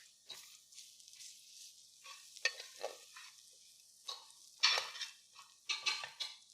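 Garlic sizzling and frying in a pan for creamy shrimp linguini, with soft stirring scrapes and utensil clinks coming in uneven bursts, fairly close but quiet, with no talking.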